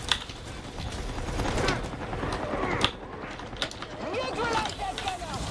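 Enemy machine-gun fire in the game Warhammer 40,000: Darktide, heard as a continuous dense rattle of rapid shots mixed with clanking mechanisms and creaks, steady and moderately loud over a busy battle background.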